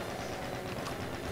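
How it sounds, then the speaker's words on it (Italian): A brief train sound effect, a steady faint rumbling with soft rhythmic clatter that lasts only a moment. "C'è il suono del treno"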